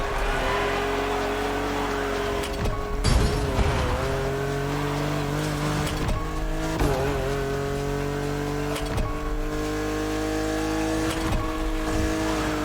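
A BMW Z4 M40i roadster races in The Crew Motorfest, its engine droning steadily with repeated rising gear-change sweeps, brief tire squeals and a few sharp thumps.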